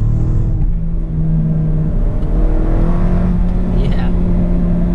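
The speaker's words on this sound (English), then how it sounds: "I really enjoy the sound of the new downpipe as well." A Mk7 VW Golf Sportwagen with 4Motion and a newly installed downpipe exhaust idles and revs with a loud, steady low engine drone throughout, with a brief dip and faint higher tones near the end.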